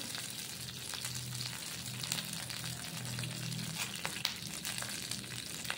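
Curry leaves and urad dal fry in hot oil with a continuous crackling sizzle, dense and fairly close, with scattered sharper pops throughout.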